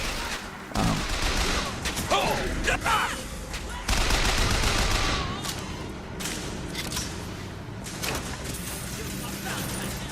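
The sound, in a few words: gunfire in a gun battle in the video game Bioshock Infinite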